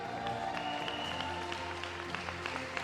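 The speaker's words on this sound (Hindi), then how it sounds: "एक जोरदार तालियां" An indoor audience at a motivational talk breaks into sustained applause, with dense clapping of steady strength throughout and scattered crowd noise mixed in.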